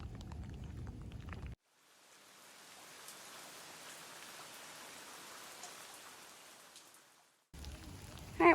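Rain falls on a park shelter in Starkey Park, Florida: a steady, even hiss of many drops that swells in, holds for about six seconds and then stops abruptly.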